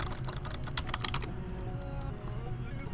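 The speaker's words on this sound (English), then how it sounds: "going to our computer and typing network" Rapid clicking of keys on a computer keyboard for about a second, then the tapping fades out, leaving a quiet room hum.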